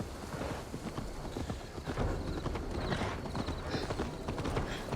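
Horse hooves clip-clop in Assassin's Creed Valhalla, a steady run of hoofbeats heard up close over a dense, noisy game background.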